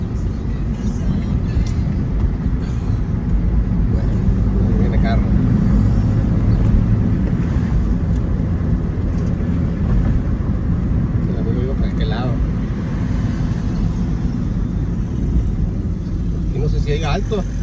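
A car approaches along a road behind Cerro Colorado in Tijuana, giving a steady, fairly loud low rumble that lasts throughout, with people talking over it.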